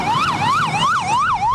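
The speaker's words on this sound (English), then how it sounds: "A speeding ambulance with lights and sirens often means a life and death situation for a patient" A speeding high-tech ambulance sounds its siren close by and loud, a continuous wail sweeping up and down in rapid repeated cycles.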